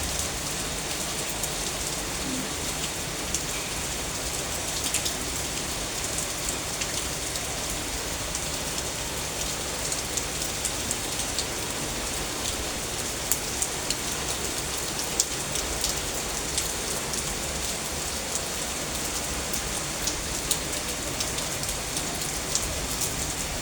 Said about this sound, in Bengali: আবার অনেক জোরে বৃষ্টি চলে আসছে।